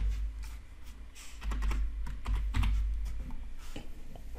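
Fingers typing on a computer keyboard, a quick irregular run of soft close key clicks heard alone over faint background noise.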